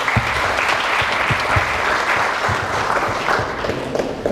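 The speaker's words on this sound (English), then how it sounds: "Please, guys, give him a round of applause." A conference audience at a Pan-African peace organization event applauds a speaker with loud, dense clapping that carries steadily throughout, with faint low thumps underneath.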